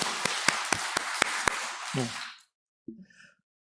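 A Korean church congregation gives a short round of clapping during a Sunday service, sharp evenly spaced claps about four per second that stop abruptly, followed by a brief vocal sound and a sigh-like breath in near silence.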